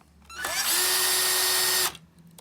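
A cordless power screwdriver runs for a little over a second, backing out a screw from the side cover of a Toshiba 4540c copier, a steady close high whine that starts and stops abruptly.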